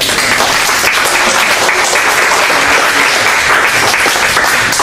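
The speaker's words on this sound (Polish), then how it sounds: "Wielkie brawa dla nich." Audience at a philosophy club meeting in Łódź applauds loudly and continuously. The hand clapping is thick and close, and it holds at an even level from start to finish.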